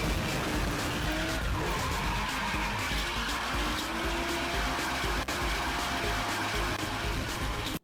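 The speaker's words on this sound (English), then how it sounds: "If you ever hit a car, you'll be forced to speed back up in order to continue to gain score" Car crash in the FNAF Pizzeria Simulator Midnight Motorist driving minigame: a continuous noisy engine-and-tire roar with skidding texture, a sharp brief impact hit near the midpoint, then the rush carrying on to an abrupt stop.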